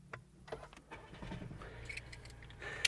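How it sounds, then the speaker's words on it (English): Keys jangle up close as the 1.0-litre petrol engine of a 2020 Skoda Kamiq cranks and catches into a low, quiet idle. "that fizzy little 1 litre starts up outside"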